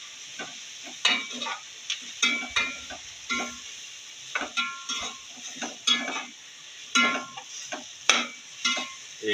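A spoon stirs keema with turmeric, salt and masala in a frying pan, with repeated scraping clinks and soft shuffling over a faint steady sizzle, close and moderately loud.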